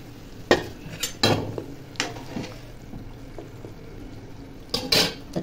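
Soybean koftas dropped into gravy in a metal pan, a few sharp clinks of a utensil against the pan over a soft liquid background, with quiet gaps between the knocks.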